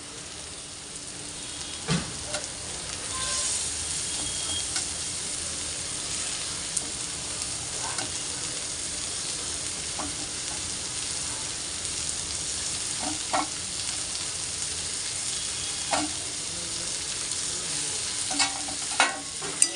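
Onion and tomato sizzle steadily in a pan for egg bhurji, a constant close hiss of frying broken by occasional scraping stirs and light clicks of a spatula, without talk.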